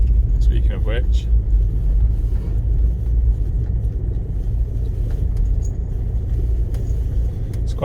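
A Land Rover Freelander Td4 diesel idles along an icy off-road quarry track, giving a steady, loud low rumble throughout with faint creaks above it.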